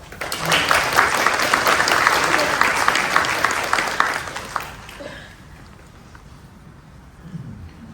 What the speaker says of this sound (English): Please welcome Reverend Henry Adams with applause.